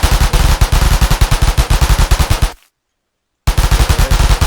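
Rapid automatic fire from an assault rifle in a Minecraft gun mod, a loud, close burst of evenly spaced shots that cuts off abruptly, falls silent for about a second, then resumes.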